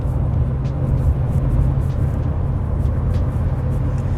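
A Chevy 1500 pickup with a 6.2L V8 climbs a hill while towing. A steady, heavy low engine drone and road rumble fill the cab continuously, close and even, with no speech.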